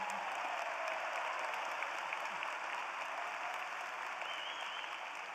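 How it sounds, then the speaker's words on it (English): Steady audience applause fills a commencement ceremony hall, a dense even wash of clapping from a large crowd heard at moderate distance without a break. "Let's give a round of applause for all mothers"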